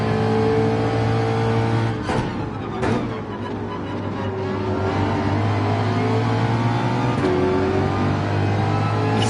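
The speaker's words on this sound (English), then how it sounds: "Mustang does like to be revved up quite a bit." A Ford Mustang engine in Gran Turismo 7 revs hard and continuously, with a few quick gear shifts breaking the loud, steady drone.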